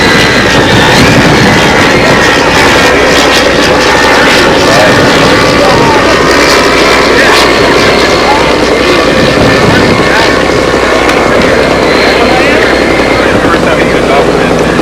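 An electric four-motor RC scale model airplane flies at a national scale meet, giving a steady, loud, smooth propeller whir that holds evenly throughout with little variation.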